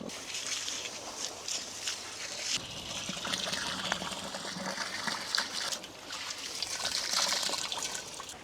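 Water pouring and trickling into a barrel of grains set to soak, a steady close splashing, gurgling flow that runs for several seconds without a break.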